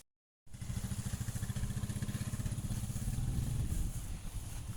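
Motorcycle engine starting up after a brief silence, then a steady pulsing idle with a rapid rhythmic thump, moderately close and fairly quiet, slightly louder toward the end.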